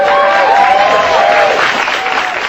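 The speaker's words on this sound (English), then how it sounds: "Norm MacDonald got more applause than America" A studio audience breaks into loud, close applause with some cheering, a brief burst of clapping that fades slightly at the end.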